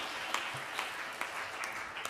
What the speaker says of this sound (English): That would be a good place to clap.